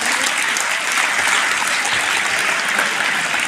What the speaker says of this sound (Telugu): మేడంకి అందరు క్లాప్స్ కొట్టండి